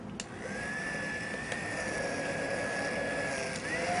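An immersion blender whirs steadily while blending squash soup with sage and olive oil in a kitchen pot, a continuous motor drone with small dips and a slight rise near the end.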